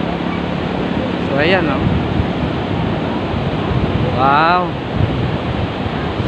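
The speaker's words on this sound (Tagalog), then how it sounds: "So malakas ang alon." Strong sea waves wash onto a gray sand beach, a constant loud roar with wind buffeting the microphone, while a person speaks a few brief exclamations over it.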